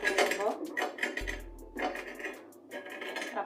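Olive pickle being lightly crushed in a pan with the heat switched off, giving clattering metal-on-pan scrapes and knocks in uneven bursts, fairly close and moderately loud, with a low hum running through part of it.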